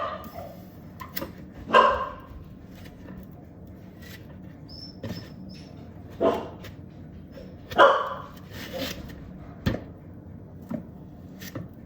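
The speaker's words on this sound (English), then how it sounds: "Excuse my dog in the background." A pet dog barks in short, scattered bursts from another room, fairly faint behind quiet indoor noise and light tapping from cake-decorating work.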